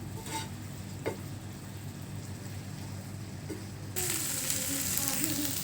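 Banana flower and cowpeas fry in a pan for a Kerala-style thoran, giving a soft, steady sizzle that grows noticeably louder and brighter partway through.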